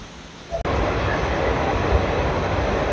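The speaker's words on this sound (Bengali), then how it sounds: "এটা হচ্ছে পুরুলিয়া হাওড়া ইন্টারসিটি এক্সপ্রেস, এখন হাওড়ায় ঢুকছে, পুরুলিয়া থেকে আসছে এটা।" Purulia–Howrah Intercity Express pulling into Howrah station: a steady, loud rumble of train and rail noise that swells suddenly after a brief quieter moment and then holds constant to the end.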